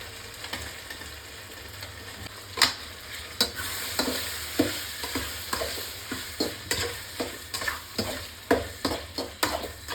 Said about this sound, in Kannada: ಟೊಮೆಟೊ ಕಂಪ್ಲೀಟ್ ಫ್ರೈ ಆಗಬೇಕು